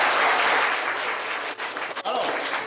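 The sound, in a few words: audience applause for a contestant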